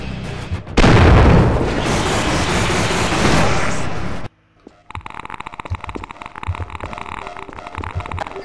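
Tank cannon fire and explosions from the video game Half-Life: Source, with a loud, sustained blast roaring for about three seconds, a brief drop to near silence, then a rapid crackle of gunfire and impacts.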